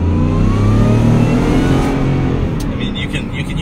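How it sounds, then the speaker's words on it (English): A 700 hp supercharged Ford F150 pulls hard from inside the cab, its loud engine roar and rising supercharger whine steady throughout, with a voice talking briefly near the end. "you can hear the supercharger definitely kicks in"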